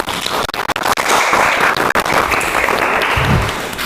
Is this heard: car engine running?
no